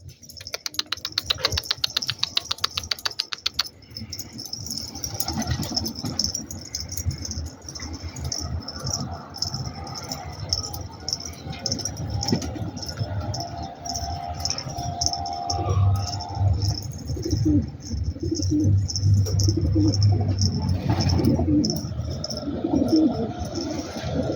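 A wild pigeon coos softly near a bird enclosure, its low murmuring calls repeating under background sounds, with a burst of sharp flapping or tapping noises early on.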